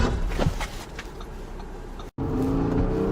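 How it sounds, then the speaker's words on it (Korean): An Audi Q7 45 TDI braking hard from 100 km/h, heard as a steady, loud road and tire rumble with engine drone that cuts out briefly near the end. "시속 100에서 제동 한번 해보죠."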